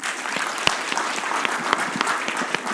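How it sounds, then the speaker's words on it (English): A crowd at a university teaching and learning centre launch breaks into applause, a dense patter of clapping hands that carries on steadily with a few sharper claps standing out. "Let's give them a better round of applause."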